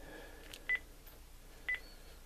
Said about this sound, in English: I just turned the phone on or off or something.